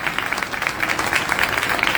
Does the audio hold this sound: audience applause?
yes